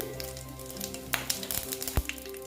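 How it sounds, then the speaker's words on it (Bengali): Whole spices for a vegetarian banana-flower dish tempering in hot oil, sizzling steadily and close with crackles and pops, strongest around the middle, with no talking. "এবার এই দেখো ফোড়নের এইগুলো সব দিয়ে দিচ্ছি"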